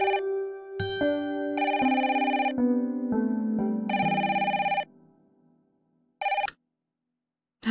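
A telephone rings with a bright electronic chiming ringtone in bursts over several seconds, then falls silent before a short final chirp, loud and close with no talking.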